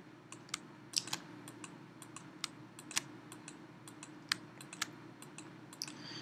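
Quiet computer mouse and keyboard clicks while editing a dental photo in Pixlr: scattered single and double taps at an uneven pace over a low steady hum, no voices.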